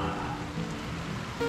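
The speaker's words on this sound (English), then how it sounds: "Right now it's raining." Steady rain falls outdoors on a freezing 30-degree day as a storm approaches, a dense, even patter of drops hitting surfaces that continues without a break and with no voices.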